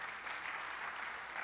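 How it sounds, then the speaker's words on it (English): Brief audience applause at a PNC National Center for Entrepreneurship event, a steady, fairly faint wash of clapping with no distinct individual claps. "a round of applause for that,"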